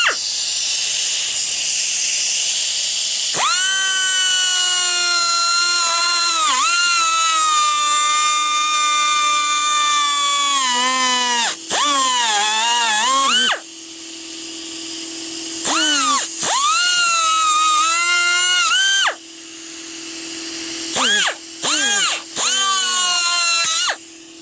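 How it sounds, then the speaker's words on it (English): Die grinder trimming parts for a Stillen intake install on a Nissan 370Z Nismo, a loud high-pitched whine running long stretches, dipping in pitch as it bites into material and stopping briefly between cuts. "So instead of starting with a Dremel, I found this die grinder thing. So that's what I'm gonna do it with."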